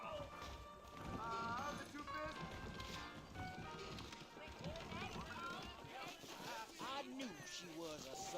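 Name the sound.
horses trotting, from the video game Red Dead Redemption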